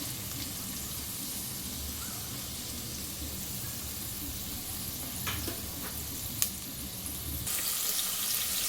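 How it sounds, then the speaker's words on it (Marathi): Chopped onions frying in hot oil in a pan while cooking veg biryani, giving a steady, close, broadband sizzle with no talking and a few faint clinks near the end. "मग कांदा तळून घेते जो आपल्याला वरती घालता येईल"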